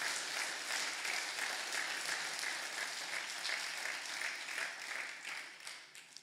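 Sustained applause from an audience at an evening celebration event in Leicestershire, honouring mothers; dense steady clapping fills the whole stretch without voices, tapering slightly at the very end.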